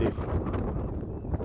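Steady, rumbling wind buffeting a microphone, a low continuous roar filling the whole stretch with no clear voice on top.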